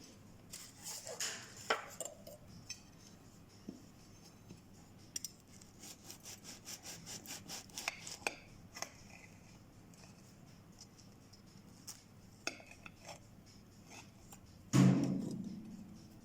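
A knife sawing through a loaf of freshly baked whole wheat bread, still warm and soft, gives repeated dry rubbing strokes in quick bursts, fairly close and moderately quiet, with a louder bump near the end.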